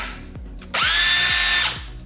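A TECCPO lithium-ion cordless drill spins up loudly for about a second with a steady high whine, then winds down, framed by quieter thumps on either side.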